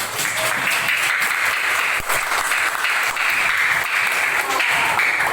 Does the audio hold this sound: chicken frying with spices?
no